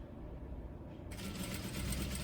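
A sewing machine stitches along the button placket of a pin-tuck blouse, a continuous close mechanical whir that grows louder and brighter partway through, with no voices.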